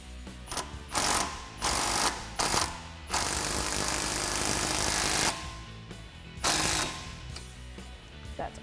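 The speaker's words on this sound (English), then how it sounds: "just tighten down this nut so we can grab our torque wrench" Ratchet or torque wrench tightening a nut on a Jeep Wrangler JK steering attenuator, loud metallic clicking bursts in short irregular runs with a longer sustained stretch in the middle, close and without talk.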